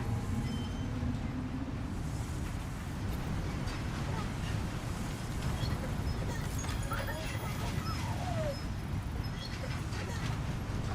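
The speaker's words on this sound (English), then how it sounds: "Get on monorail. And just do a quick little run to the mine." Monorail ride in the video game Death Stranding 2, carrying a loaded vehicle out to the mine: a steady low rumbling rail roll runs throughout with faint clacks and whirs above, while a person talks over it.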